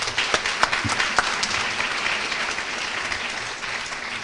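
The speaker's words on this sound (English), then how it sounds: "Another round of applause for our EAGLE finalists." An audience at an award luncheon applauds the EAGLE Award finalists, a full, sustained wash of many hands clapping, fairly loud and close, fading slightly toward the end.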